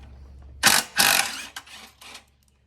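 A 14mm socket wrench ratchets on the blade plate bolts of a Honda HRU216 self-propelled mower, with two longer clicking bursts followed by a few shorter ones, close up and alone.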